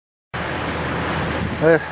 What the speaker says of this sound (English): I don't know if you can hear this very well because of the windstorm